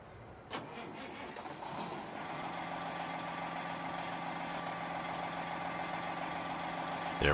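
A 1980s Freightliner truck engine in American Truck Simulator cranks with a sharp click and a brief starter whir, catches, then settles into a steady, rumbling, moderately loud idle with an even hum that carries on to the end.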